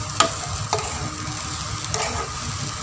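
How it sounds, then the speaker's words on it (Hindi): Sugar being stirred into apple halwa frying in a pan, with a soft continuous sizzle and a few scraping spoon strokes against the pan, close and alone. "और हम इसको अच्छी तरह से मिक्स कर लेंगे ताकि चीनी जल्दी से मेल्ट हो जाए।"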